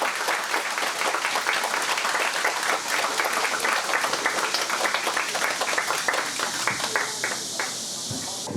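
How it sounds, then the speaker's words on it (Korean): Guests at a Korean traditional wedding ceremony clap steadily and densely for the bride and groom, a sustained crowd applause that thins into scattered claps near the end. "끝까지 박수 많이 보내주셔야지"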